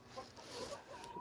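Hens clucking softly inside a henhouse with laying hens, a faint, scattered series of short clucks at a distance.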